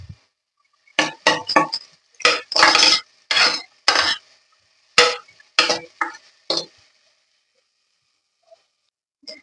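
Onions roasting in a pan are stirred with a utensil, giving a series of about ten close, scraping and rasping strokes with brief pauses between them, then silence.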